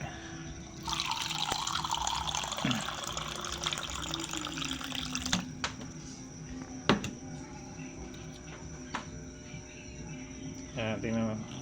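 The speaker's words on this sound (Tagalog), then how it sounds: "Subukan natin dito lagyan ng tubig." Water is poured into a container to test a self-lighting squid-fishing lure light. A broad rushing splash starts strongly and then thins into trickling and faint drips, with a steady hum in the background.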